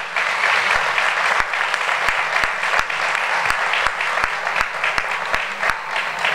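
Loud, sustained applause from a festival crowd at the Trovalia trovo and repentismo festival in Cartagena, steady clapping with a few sharper individual claps standing out, running throughout with no talk.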